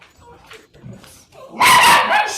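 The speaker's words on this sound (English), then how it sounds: "And that's the dog singing" A dog at a synagogue service gives a few soft yips and whimpers, then breaks into a loud burst of barking and howling near the end. Voices can be heard faintly in the background.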